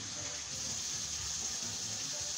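Water runs steadily from a tap into a cooking pot for fish soup, a continuous close gushing stream with no pauses and no talking.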